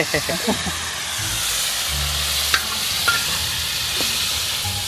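Bacon fries over a campfire outdoors, giving a steady, dense sizzling hiss that runs throughout, with people talking briefly near the start.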